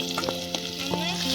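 Onion and curry leaves fry in oil, a brief close crackling sizzle with a few quick bursts of spattering.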